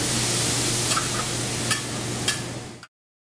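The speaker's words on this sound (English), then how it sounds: "So we'll take a little bit of our white wine, straight on the flat top." White wine goes straight onto a hot flat-top griddle and sizzles in a steady, loud hiss with a few faint crackles, close by, then cuts off abruptly.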